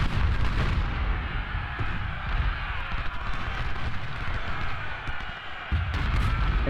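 Artillery cannons firing in a Civil War battle at Seven Pines in Ultimate General: Civil War, with steady booming blasts and rumble under continuous battlefield noise.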